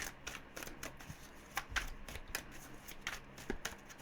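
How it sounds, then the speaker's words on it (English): Tarot cards are shuffled up close: a quiet, irregular series of crisp riffling flicks and soft taps, repeating in short bursts. "I'm going to shuffle one more time"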